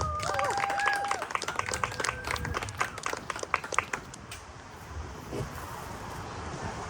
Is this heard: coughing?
no